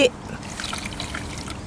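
Coconut cream is poured into a pot with sugar and salt, a short, soft liquid trickle that follows a brief thump at the start.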